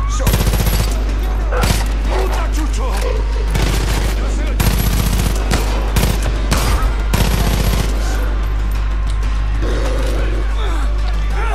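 Video game gunfire from Far Cry 5 rattles in dense, loud automatic bursts with heavy low rumble throughout, and a voice talks over it.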